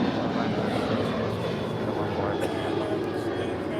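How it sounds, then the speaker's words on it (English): A ten-year-old United Boeing 737-900ER departs LAX for San Francisco, its engines a loud, steady broadband roar that fills the whole stretch, with faint radio voices in the background. "This departure is United 2611 departing to San Francisco on a 10-year-old 737-900ER."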